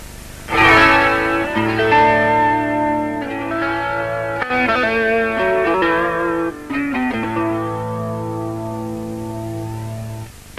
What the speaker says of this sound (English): This is the sound of this pickup, which is nearest to the fingerboard.